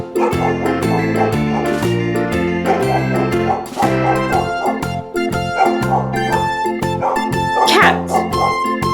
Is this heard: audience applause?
no